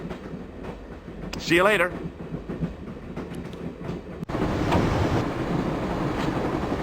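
A train carriage in the game Broken Sword rattles along with a steady rumbling clatter. A voice speaks briefly early on, and the rolling noise grows louder and fuller partway through.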